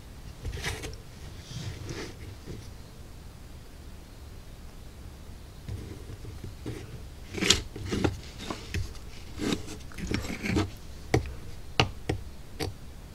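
A part from an HO scale Dannen Feeds railroad kit is cut through, giving quiet, irregular ticking snips that grow sharper and more frequent toward the end, with no voices.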